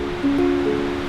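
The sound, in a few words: waterfall in Central Oregon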